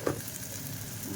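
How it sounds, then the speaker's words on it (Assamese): Ginger and garlic sizzle in hot oil with a steady, fairly quiet frying hiss and a small stir or clink at the start, no voices. "এতিয়া আদা ৰচুনখিনি দি দিছোঁ তেলতে"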